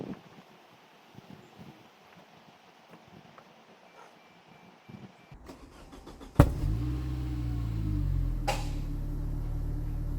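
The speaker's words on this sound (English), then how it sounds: "There is a bang in the exhaust pipe and some other noise makes itself felt." A Saab 9-3 rescued from the scrapyard cranks and starts with a sharp bang from the exhaust pipe, then settles into a loud, steady, rough idle close by after a quiet windy stretch.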